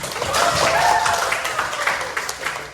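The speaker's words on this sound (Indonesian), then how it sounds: "tepuk tangan untuk kita semua" A classroom audience of teachers-in-training claps together at the close of a lesson, a dense, close round of clapping that swells early then thins into scattered claps, with a faint voice underneath.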